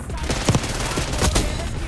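Rapid bursts of automatic gunfire emptying a magazine crackle in quick succession in Call of Duty: Black Ops 6, loud and close, with a voice faintly underneath.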